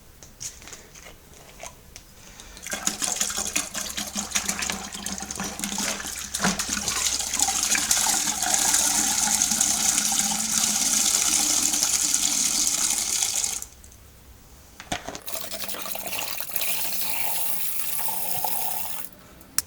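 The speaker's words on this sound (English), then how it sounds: "And then the bottles of cold water." Cold water glugs from bottles into a home brew fermenter, a loud steady pouring rush broken by a short pause before a second bottle pours, close and without talk.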